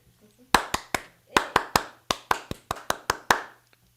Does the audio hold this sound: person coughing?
no